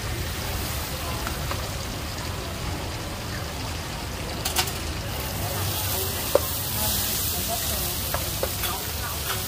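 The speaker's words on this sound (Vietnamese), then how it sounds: "chiên mắm tỏi nha cả nhà." Fish balls frying in garlic fish sauce give off a loud, steady, close-up sizzle, with dense crackling and occasional sharper pops throughout.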